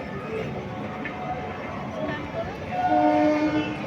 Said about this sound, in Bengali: ওই তো ট্রেনটা আসছে ওই দেখ